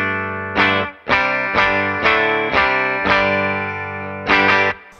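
Electric guitar with a clean tone from the bridge pickup through a Victory DP40 amp with a little reverb, playing a series of sustained chords, each strummed and left ringing, with brief gaps between them.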